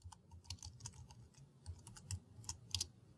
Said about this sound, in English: Once you have your text editor open, simply type in some text as you normally would